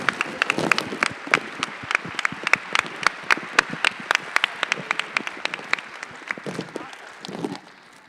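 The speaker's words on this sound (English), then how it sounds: "We'd also like to give a big, big round of applause to our curators, Sahar and Madhav" Audience at a TEDx talk event applauding its curators, with crisp, close individual claps forming a brisk, lively round that thins toward the end, with a few voices mixed in.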